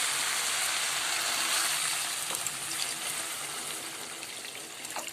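Water pours into a pot of fried black chickpeas, a steady hissing gush that slowly softens, with light sizzling and bubbling underneath.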